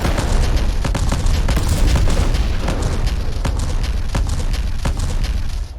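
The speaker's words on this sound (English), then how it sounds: "I also, for whatever reason, found it satisfying to shoot these mines and watch them explode in a line like dominoes falling." Mines blowing up one after another in a line in the shooter game Black, a dense rapid chain of loud booming blasts layered over rumbling debris, then cutting off abruptly.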